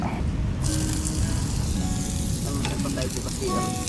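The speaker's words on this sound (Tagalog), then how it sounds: "Tuloy natin yung pagluluto. Susunog na yung mantika." Cooking oil sizzling loudly in a pan during frying, a dense continuous crackle with occasional clinks of a utensil.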